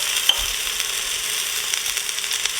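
Whole spices (cumin, peppercorns, curry leaves, cloves) sizzling in hot oil in an Instant Pot for lamb pilaf: a steady bright frying hiss with a few small crackles and a light clink near the start, no voices.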